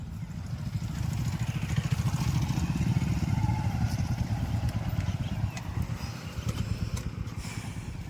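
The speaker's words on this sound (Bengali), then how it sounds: "এই যে এখানে আরও আসছে 4টা বাইক।" Several motorcycles arriving on an off-road dirt track, their engines a steady, loud mid-pitched drone with clattering, continuous throughout with no clear gaps.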